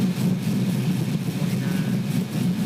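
The LS 5.3 engine in a 1969 Camaro, set to 28 degrees of timing, runs at a steady low, throbbing idle, close and continuous with no talk.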